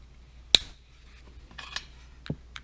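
A Nissan key fob's plastic casing snaps back together: one sharp close click, then a few softer clicks and rubbing of the plastic parts near the microphone.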